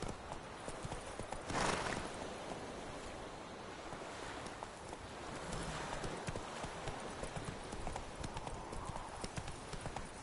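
Hooves of the horse Roach in The Witcher 3: a continuous clip-clop gait over a broad rushing wash of ambient noise, steady and moderately loud, with a faint voice in the background.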